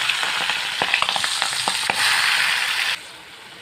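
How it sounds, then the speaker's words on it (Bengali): Prawns frying lightly in a pan give a steady close sizzle with scattered crackles and pops, loud at first, then quieter as the pan settles toward the end. "চিংড়ি মাছগুলো আমি হালকা করে ভেজে নেব"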